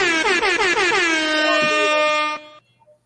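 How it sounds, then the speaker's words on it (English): A loud, sustained air horn blast with a wavering, warbling pitch, lasting over two seconds before cutting off into quiet. "Air horn is for Wayman too."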